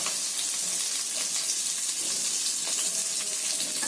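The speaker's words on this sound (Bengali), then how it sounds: "পেঁয়াজটাকে একটু ভালো করে ভেজে নেব" Sliced onion frying in a pan of oil with browned sugar for a ghugni curry, a steady, close hiss and sizzle running without a break.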